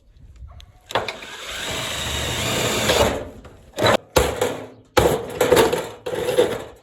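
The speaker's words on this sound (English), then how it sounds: "This drill bit isn't quite big enough, so I'll have to make a couple smaller holes." A power drill with an undersized bit drills several small holes in bursts: a long run of about two seconds followed by shorter revving spurts with brief pauses between, close and loud.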